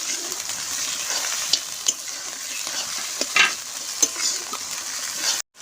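Turmeric, cinnamon and cardamom stir-fried in a pan for a Bengali mutton curry, giving a steady close sizzle with scattered scraping stirs and a few louder clatters, and no talk.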